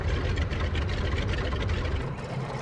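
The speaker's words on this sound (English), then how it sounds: "A little more volume in the engines would be nice." A Fairey Swordfish Mk1 biplane engine idles in Microsoft Flight Simulator, a steady low rumbling drone that holds even and loud throughout with no talk.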